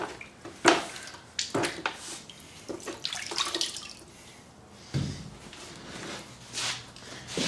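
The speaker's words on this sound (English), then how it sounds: "I take my sanding block, dip it in the water" Water splashes and sloshes in a sink or basin as a sanding block is dipped and swished for wet sanding, with drips and intermittent clatters nearby.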